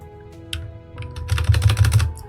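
Computer keyboard keys clicking in quick succession during a Yandere Simulator session, a few scattered taps giving way to a dense, loud burst of rapid typing close to the microphone.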